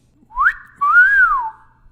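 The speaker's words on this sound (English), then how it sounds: "I heard the crude whistle from behind us" A crude whistle gives two sharp tones, a short upward slide and then a longer rising-and-falling note, loud and clear against near silence.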